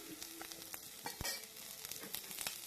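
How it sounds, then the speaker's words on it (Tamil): Chopped shallots and green chilies sauté in a ladleful of oil, giving a faint, even sizzle with light scattered crackles and soft stirring taps from a spoon, no voices. "வெங்காயம் பச்சை மிளகாயும் நல்லா வதங்குங்க"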